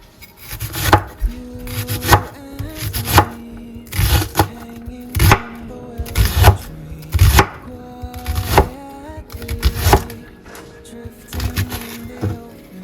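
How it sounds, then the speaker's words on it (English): A knife dices an onion on a cutting board, with loud, close chops landing in a fairly steady rhythm about once a second, some in quick doubled strokes, over faint background music. "Now I'm gonna go ahead and dice 1 onion."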